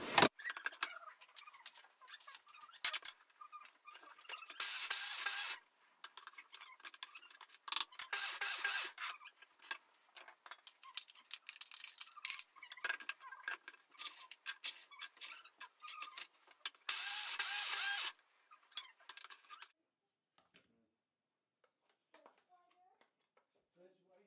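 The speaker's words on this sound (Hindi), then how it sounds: "ये हमने सारे काजू इस तरीके से पीस लिए।" Roasted cashews are ground in an electric grinder for kaju katli, in several loud bursts separated by short pauses. The grinding stops about twenty seconds in and is followed by near silence.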